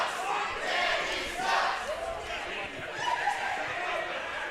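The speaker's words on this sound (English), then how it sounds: "this crowd letting Danny O'Ryan know exactly how they feel" Wrestling event crowd loudly jeering and shouting at a wrestler, a sustained roar of many voices with rising and falling swells across the whole stretch.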